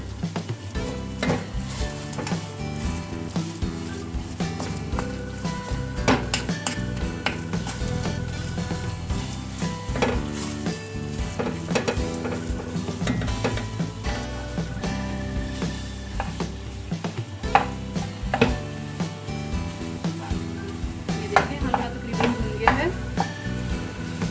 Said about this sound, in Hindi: सब चीज़ें डाल के इसे मीडियम आंच पे रख के इसे अच्छे से भून लेना है।